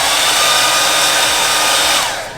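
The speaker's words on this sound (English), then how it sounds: "work my way on that side using the hairdryer" A hairdryer blowing steadily at close range while heating material worked with a squeegee, a loud even whoosh holding for about two seconds before it fades as the dryer moves away or switches off.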